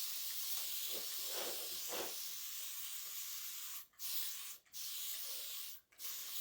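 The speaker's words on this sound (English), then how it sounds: "I'm going to give it a spray" A spray bottle of distilled water mists an ink-covered chair seat in steady, close hissing bursts, broken by three brief pauses near the end.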